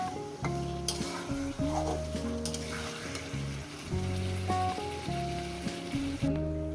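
Tomatoes and spices sautéing in a pan for a Bengali rohu fish curry with raw banana and potato: a steady, close sizzle with occasional stirring scrapes, and a musical tune playing loudly throughout.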